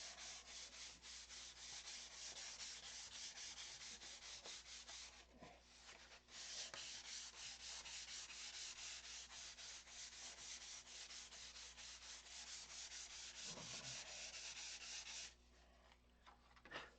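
Steady sanding on a model build part, a continuous scratchy rubbing that runs throughout with a couple of brief pauses, close and fairly loud with no voices.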